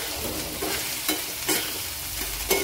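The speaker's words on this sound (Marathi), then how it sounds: "हिरव्या मिरचीला पण चांगलं परतून घ्यायचं आहे" Onion and green chilli sauté in a pan for egg bhurji, a steady close hiss of frying broken by several brief scraping stirs.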